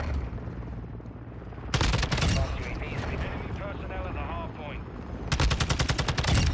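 Rapid automatic fire from a TAQ 56 rifle in Modern Warfare 2 comes in two loud sustained bursts, with someone talking over the quieter stretch between them.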